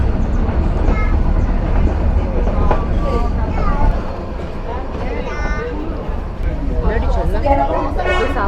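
Nilgiri Mountain Railway toy train near Ooty, a steam-hauled mountain train, runs past with a loud continuous rumble and wheel noise, while people talk over it and a few whistle-like tones rise near the end.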